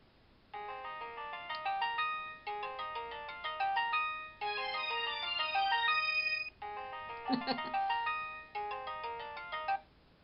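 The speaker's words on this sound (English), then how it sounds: "Now you know what my ringtone is." A cell phone rings with a bright electronic melody, repeating in several phrases with brief pauses between them, fairly close and alone with no voices.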